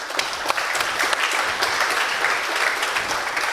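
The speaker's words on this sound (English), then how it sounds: "I think this is an applause." An audience at a university event bursts into steady applause: many hands clapping in a dense, even wash with a few sharper claps standing out near the front.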